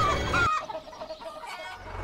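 A cartoon chicken clucks in the comedy platform video game Manual Samuel on Switch, one sharp close squawk that quickly drops to faint, fading clucks.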